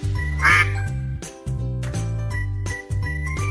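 A cartoon-style duck quacks a few times over a bright tinkling jingle in a children's animal matching game, loud and up front.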